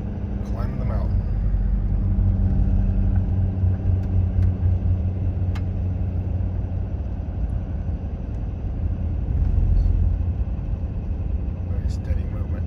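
Car engine climbing a mountain on the Alaska Highway, a steady low droning rumble with road noise from inside the vehicle, continuous and fairly loud, briefly swelling midway.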